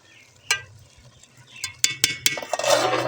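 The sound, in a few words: stirring rice in a pot for aloo chana pulao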